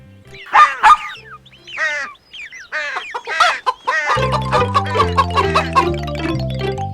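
Cartoon hen and chicks clucking and chirping in a children's animation, a series of close, loud clucks and peeps followed by a bouncy musical backing.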